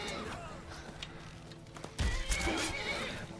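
A horse neighs and whinnies amid clip-clopping hooves in the video game Skyrim, in mountains, with game background noise growing louder and busier in the second half.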